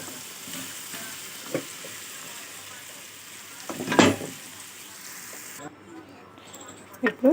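Mutton pickle stirred in oil, a soft, steady sizzle with a few scraping clinks of the spoon, fairly quiet, while someone speaks over it.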